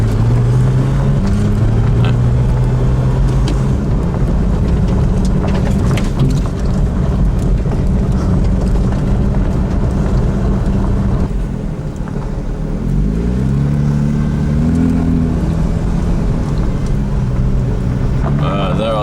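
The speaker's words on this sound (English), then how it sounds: "There are some cars here." Cars passing and revving at a cars and coffee gathering in the Alps, steady engine roar close by with a rising and falling pass near the end, loud and continuous with some wind noise.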